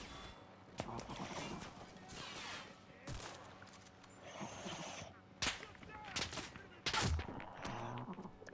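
Gunfire from the World War II shooter game Enlisted crackles in scattered bursts and sharp single shots, some near and loud, others distant, with a few heavier blasts mixed in.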